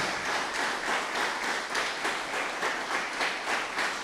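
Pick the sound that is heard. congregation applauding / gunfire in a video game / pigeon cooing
congregation applauding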